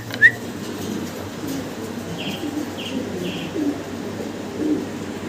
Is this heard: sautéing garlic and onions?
no